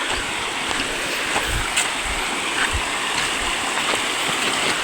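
A small creek runs beside streamside plants and tree ferns, a steady broad wash of flowing water, close and fairly loud throughout, with no voices.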